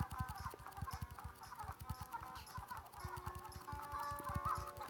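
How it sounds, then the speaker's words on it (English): Chickens in the mobile farming game Egg Inc cluck and squawk in a busy, overlapping flock, with rapid rhythmic low thumps running steadily beneath the game's bright chirpy sounds. "So each time I tap, a chicken comes out."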